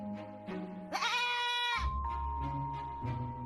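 Sheep bleat close by, one long wavering bleat rising over the others, with further shorter bleats and low rumbling around it in an outdoor setting.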